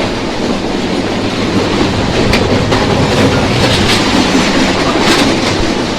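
The Rupsha Express passenger train, crowded with standing passengers, rumbles loudly along the rails between Chuadanga and Khulna, Bangladesh, a steady close roar with rhythmic clatter from the wheels throughout.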